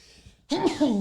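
A single sudden sneeze bursts out after a short lull, loud and close, with a brief voiced tail trailing off.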